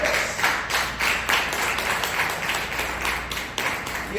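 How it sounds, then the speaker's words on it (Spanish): Crowd applause in a church service, praising the Lord during a sermon, with steady rhythmic clapping in unison, a moderately loud, continuous pulse of many hands filling the room. "Un aplauso al Señor."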